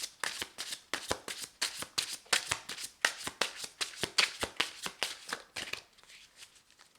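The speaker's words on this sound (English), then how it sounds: "I'll shuffle 3 more times" Tarot cards being shuffled by hand, a quick run of crisp riffling bursts in steady rhythm, close and clear, tapering off to softer rustling at the end.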